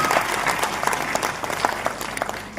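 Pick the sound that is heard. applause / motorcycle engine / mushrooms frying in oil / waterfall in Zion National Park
applause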